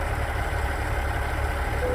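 A heavy truck's diesel engine idles steadily in American Truck Simulator, shown on an Ironwerx IW900 hauling a GSL lowboy, with a constant low rumble and no voices.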